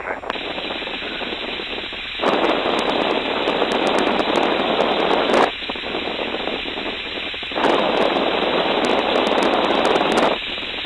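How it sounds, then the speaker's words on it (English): A Tiger Moth biplane's engine runs steadily throughout as a loud, continuous drone that swells and eases in long alternating stretches, with faint radio-like chatter over the top. "I think we're going to keep the engine running"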